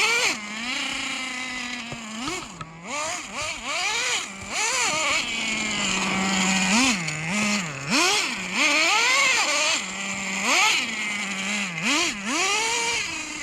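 A Traxxas Slayer nitro RC truck engine buzzes and revs repeatedly as it drives, its high nasal whine rising and falling in pitch with throttle blips, close and loud, with no talking.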